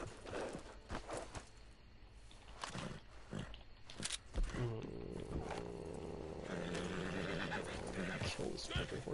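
Horse neighing and rearing in Red Dead Redemption 2 Online, loud shrill whinnies and snorts with hoof clatter, mixed with someone talking over the game sounds.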